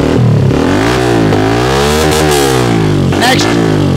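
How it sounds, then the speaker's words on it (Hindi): A Hero Xtreme 125R motorcycle with an Akrapovic exhaust revs loudly up close, producing a steady throaty drone broken by repeated rising and falling throttle sweeps. "ये है एक्रा बोवी का बेसिक जो कि आपको साउंड सुना रहे हैं इसकी।"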